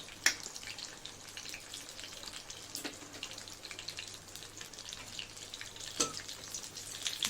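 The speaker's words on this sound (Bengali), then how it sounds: "জিরা তেজপাতা শুকনো লঙ্কা ফোড়ন দিয়ে দিলাম" Cumin, bay leaf and dried chilli tempering crackle and sizzle in hot oil, a steady bright frying hiss with a few sharper pops, fairly close and alone without talk.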